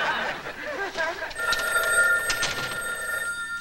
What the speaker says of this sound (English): Oh, no, it's the phone.